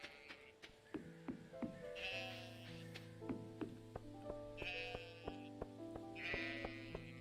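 Several sheep bleats in Stardew Valley, a farming video game, repeating every couple of seconds over steady game music and sound effects at moderate volume.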